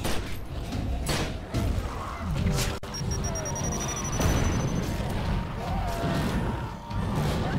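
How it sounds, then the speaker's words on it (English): Rifle fire in The Secret World sounds as a run of heavy booming shots with crashing impacts over a dense rumbling game mix, fairly loud and close, with a voice talking in places. "Let's start off with some rifle shots"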